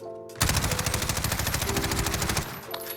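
Rapid automatic gunfire in the shooter game Warzone, a loud sustained burst of closely spaced shots lasting about two seconds, then a quick tail-off.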